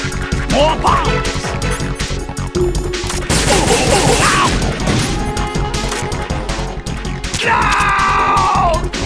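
Explosions and crashing blasts in the Metal Gear Solid 2 Big Shell stage, loud bursts clustered around the middle, with scattered impacts and a tonal game cue near the end.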